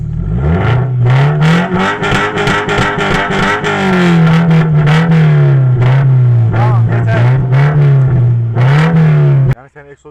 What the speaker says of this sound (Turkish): Egzozu dinletelim